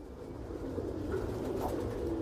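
Stichelbaum racing pigeons cooing in a loft, with soft low burbling coos repeating over a steady background murmur, close and fairly quiet, without talk.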